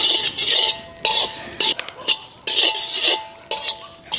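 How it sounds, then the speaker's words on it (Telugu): Coriander seeds dry-roasting in a pan, stirred with a utensil that gives repeated sharp scrapes and metallic clinks in an uneven rhythm, close and fairly loud. "ముందుగా ధనియాలు వేసుకుని దోరగా వేయించుకుందామండి"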